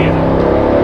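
Mercedes SL63 AMG 6.2 V8 engine droning loud and close in third gear with Sport settings, a steady low growl through a brief upshift.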